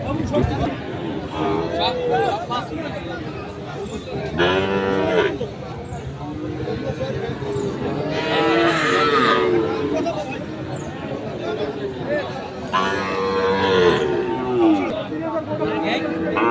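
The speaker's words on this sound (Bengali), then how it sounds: "আর এই পাশেও আছে কয়েকটি গরু" Fattened Sahiwal-breed bulls, bull calves and other cattle at the busy outdoor Ambari livestock market, with several loud moos rising over constant crowd chatter and someone talking throughout.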